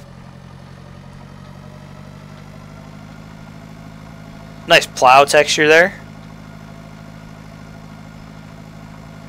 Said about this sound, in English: with the sound from the engine, you get the feeling that the tractor is working quite hard